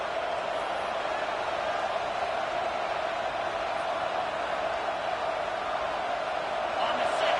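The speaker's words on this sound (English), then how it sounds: "Listen to the crowd energy here in the early going." Football stadium crowd at a USC game, a steady, dense roar from a large audience that holds without a break, with a commentator talking over it.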